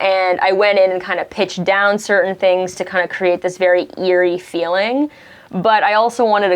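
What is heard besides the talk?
No everyday noise stands out behind the speech.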